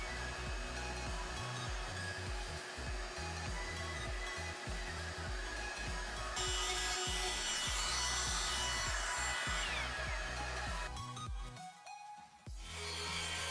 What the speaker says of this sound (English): slowly increased the depth of the router while cutting the hole for the blade to pass through